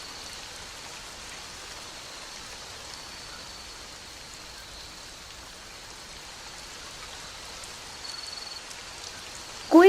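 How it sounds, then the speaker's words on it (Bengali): Rain falling in a steady, soft hiss that holds evenly throughout, with a brief louder knock right at the end. "বৃষ্টি কমতে শুরু করেছে।"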